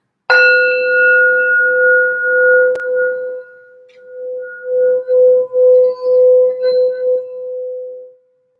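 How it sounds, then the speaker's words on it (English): A singing bowl or bell rung for a sound cleansing, one clear struck tone that rings and slowly fades, then is sustained as a steady hum with soft rhythmic pulsing, close and fairly loud with no talking. "let's do a quick little sound bell, a shorter one that we normally do"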